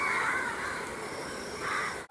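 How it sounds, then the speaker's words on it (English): Crows cawing outdoors at night, two loud, close harsh calls, one at the start and one near the end, over faint steady background noise. "Look at the crows."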